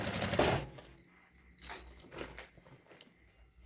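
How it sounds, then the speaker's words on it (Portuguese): Sewing machine stitching piping onto a thermal bag, running in short bursts of rapid mechanical whirring separated by brief pauses, close and fairly clear with no talk. "Agora, eu vou costurar"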